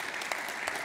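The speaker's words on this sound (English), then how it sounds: "that deserves an applause." A conference audience breaks into a brief burst of applause, soft and somewhat distant, lasting under a second with claps blending together.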